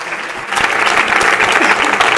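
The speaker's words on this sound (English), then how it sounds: "Let's clap." An audience at a game and city day event breaks into loud, sustained applause that grows fuller after the first half-second and stays dense and even to the end.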